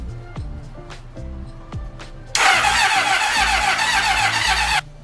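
An old engine cranks but fails to start, giving a rhythmic chugging turnover with a loud hissing burst midway before the cranking trails off, close and with no voices.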